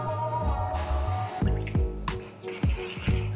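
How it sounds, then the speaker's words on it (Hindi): Water being added to a paneer lollipop batter of flour, salt, ginger-garlic-chilli paste and chilli sauce, heard as a run of wet drips and squishy plops at irregular intervals, close by. "अब हमें इसमें पानी डाल के बैटर बना लेना है।"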